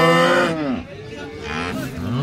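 Cows at a cattle market in Baramati, Pune, giving loud, drawn-out lowing moos nearby, one long call followed by another, with faint background activity.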